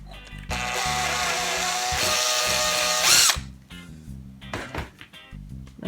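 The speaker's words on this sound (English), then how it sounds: "Let me just re-drill that a little bit." A power drill re-drills a hole in a pegboard craft organizer, a loud steady whine for about three seconds that ends, followed by brief handling clatter.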